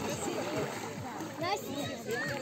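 Children splash and play in water, with light splatters and bursts of movement close by, mixed with kids' voices and chatter throughout.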